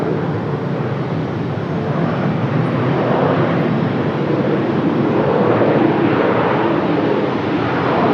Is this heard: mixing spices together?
no